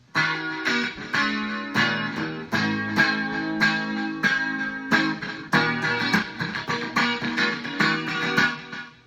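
Clean electric guitar from an HSS Strat-style build in the out-of-phase pickup position, strummed chords and picked notes ringing steadily alone, with a thin, hollow character.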